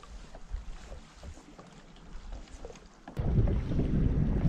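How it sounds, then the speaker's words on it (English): Wind gusts across a lake during kayak bass fishing, first as soft low rumbles with faint splashes, then a sudden loud, steady roar of wind buffeting the microphone for the last second and a half. "Hopefully this wind settles down"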